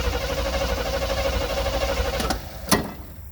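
A 1972 Chevrolet C30 truck engine runs steadily nearby with a rough, rumbling tone, followed by a few sharp clanks near the end.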